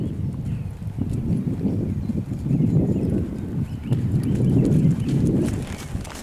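A horse's hooves clip-clop in a steady, even rhythm at a medium trot during a dressage test, close and continuous throughout with no talking.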